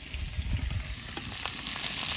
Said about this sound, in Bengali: তারপরে আলু কটা ভেজে নেবো